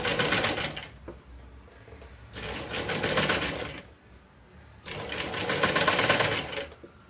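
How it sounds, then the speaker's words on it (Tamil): Sewing machine running in two long bursts of rapid stitching as lace is attached to a blouse neckline, with a short quieter pause between runs; close and steady, no talking. "நான் லேஸை வந்து கொஞ்சம் கொஞ்சமாக பிடிச்சிக்கிட்டு நான் ஸ்டிச் பண்ணுறேன்"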